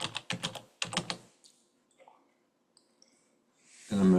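Close, crisp keystrokes tap on a computer keyboard in a quick burst of several clicks, then a few faint isolated clicks, and a louder key press at the end.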